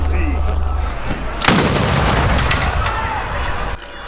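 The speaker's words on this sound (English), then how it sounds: "11 gun salute crowned the minister's journey here on earth." A gun salute fires at a minister's burial, a heavy booming blast ringing out loudly with a long rumbling decay in the open air over a faint crowd murmur.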